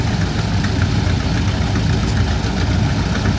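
A vintage 10 horsepower E.K. Bolin articulated two-wheel-drive tractor engine runs at a loud, steady idle close by, a continuous low chugging rumble at an outdoor tractor parade.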